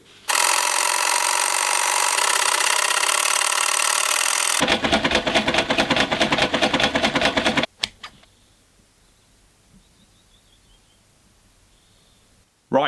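Sewing machine stitching a wool strip onto the hood of a bush shirt made from a wool blanket, a loud continuous motor whir for several seconds, then a pulsing stitch rhythm, then abruptly near-silent with faint rustling.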